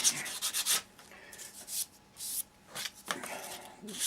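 Wood sanded by hand with a piece of sandpaper on a model signal box, repeated close, raspy back-and-forth strokes in uneven bursts with short pauses between, quiet and without talk.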